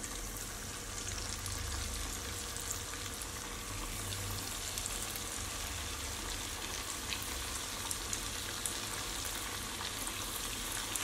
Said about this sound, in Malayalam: ഓയിൽ ചൂടായിട്ടുണ്ട് ഞാൻ ഇതിലേക്ക് ഓരോന്നായിട്ടിട്ട് ഫ്രൈ ചെയ്തെടുക്കാം